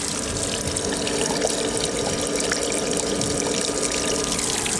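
Water rushes steadily through an aquarium overflow box, recorded up close from inside, a dense continuous gurgling hiss and trickle with no voices.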